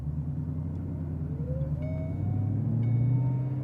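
A 2011 Shelby GT350 accelerating, a steady low engine rumble heard from inside the car as the pitch climbs gradually under throttle, with a faint chime sounding in the background.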